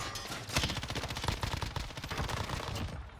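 Machine gun fire in the video game Warzone, rapid sustained automatic bursts with sharp repeated reports filling the whole stretch, close and fairly loud.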